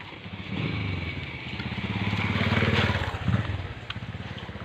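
A motorcycle engine revs and rumbles nearby, swelling louder then tapering into a rough idle as it pulls away.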